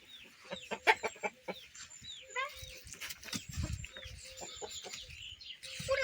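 Hens cluck busily and a rooster calls out in a village chicken coop, with overlapping bird chatter close by and some rustling throughout.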